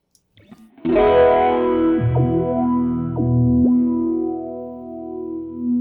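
An Old Blood Noise Float dual moving filter pedal colours a sustained chord after a soft lead-in, its swept filters producing audible gliding swoops and a distorted, chorused wash that rings on alone.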